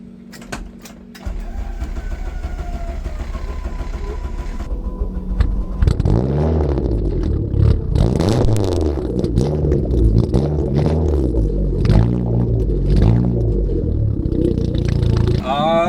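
A Mitsubishi Eclipse left unstarted for nearly a year cranks and catches, its engine roaring up and revving repeatedly in loud, close swells with a rough idle between, while a person talks over it.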